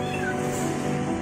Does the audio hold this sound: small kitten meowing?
yes